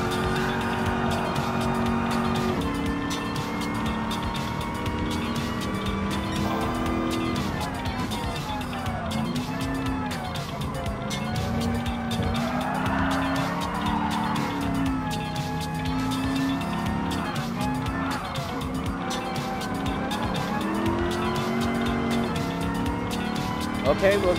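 A Ford Mustang Mach 1, the classic muscle car, racing in Gran Turismo Sport: a loud, continuous engine drone that rises and falls through gear changes, with occasional tire squeal throughout.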